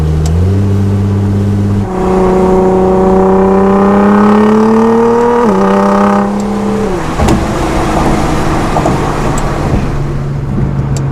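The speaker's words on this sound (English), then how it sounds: "Let's let her hear the exhaust a little bit" A loud, close Nissan GT-R exhaust drones and climbs steadily in pitch, drops briefly, then falls away into a rough rumbling idle.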